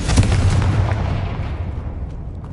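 A Confringo blasting spell from Hogwarts Legacy bursts as a loud, close explosion with a booming low thud, then fades out over about two seconds.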